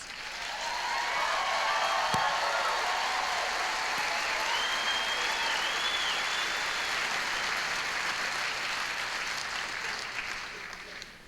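Sustained applause and crowd noise fill a hall at a Native music awards ceremony, loud and continuous, swelling in and fading slightly at the end, with a few faint whoops above it.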